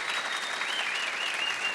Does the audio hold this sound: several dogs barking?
no